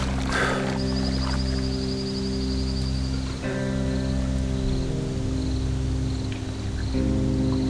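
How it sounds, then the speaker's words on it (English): Cicadas buzz and trill continuously in a dense chorus at a rainforest creek at dusk, a steady high-pitched drone over low background hum, with no talking. "You can hear the cicadas coming out."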